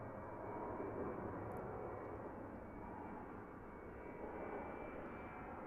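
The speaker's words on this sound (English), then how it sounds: "A321neo. With a super early rotation." An Airbus A321neo jet taking off at Christchurch Airport, its engines giving a sustained, broad roar heard from a distance at steady strength, with no voices.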